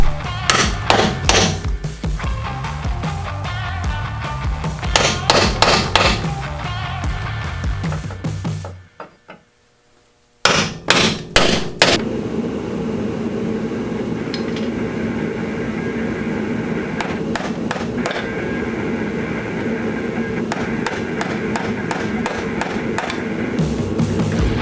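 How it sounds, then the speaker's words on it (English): Hammer blows drive a punch against rivets on a 2016 Toyota Tacoma during a bump stop install, sharp metallic strikes in bursts with a short silent gap midway, over shop background noise. "and then try to punch those rivets out"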